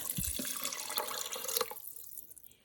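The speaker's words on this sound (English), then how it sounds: "So let's add the water." Water poured into a pot of Mexican style beans, a steady splashing pour for about a second and a half that then stops, leaving quiet drips.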